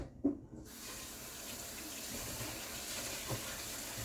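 Water pours steadily into a kitchen sink as food is washed, a soft continuous splashing flow after a brief knock at the start.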